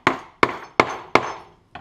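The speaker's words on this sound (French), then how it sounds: "avec un marteau" Hammer tapping a special bearing into the drive gear of a street skateboard wheel kit, five sharp close knocks in a steady rhythm, the last one lighter, with no voices over them.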